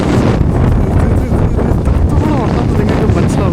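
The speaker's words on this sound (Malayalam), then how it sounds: "എനിക്കാണെങ്കിൽ കാറ്റത്ത് ഇവിടെ നിൽക്കാൻ പറ്റുന്നില്ല, അതുപോലെ കാറ്റാണ്." Strong wind buffets across the deck of an ice-breaking ship sailing from Finland to Sweden, a loud continuous roaring rush with gusty rumble close to the microphone.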